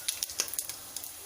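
Shahjeera (caraway seeds) dropped into hot oil for moong dal khichdi, quick crackling pops and light spitting sizzle, faint and close, in irregular bursts.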